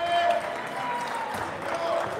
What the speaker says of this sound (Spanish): El público lo aplaude